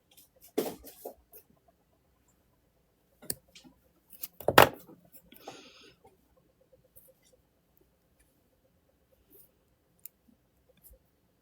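Wire snipped with cutters while making a coil jump ring for wire-wrapped jewelry, heard as a few sparse sharp clicks and snips in a quiet room, with the loudest cut near the middle.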